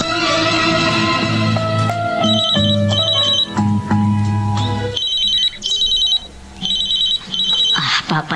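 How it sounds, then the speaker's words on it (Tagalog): A mobile phone rings with a repeating melodic ringtone. Its bright tone pulses come through loud and close, at first over background music and then on their own in short bursts. "Papa ni Jerome itong tumatawag sa cellphone"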